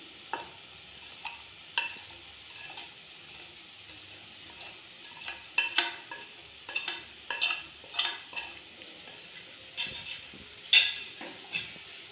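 Pav bhaji masala is stirred in a frying pan with a spoon, giving irregular scraping clinks and knocks over a soft, steady sizzle, close and alone.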